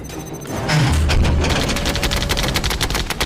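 Phalanx close-in weapon system on a warship firing at an incoming missile in an action film scene: a sustained, loud roar of rapid gunfire with heavy booming low end, continuous for several seconds after a brief buildup.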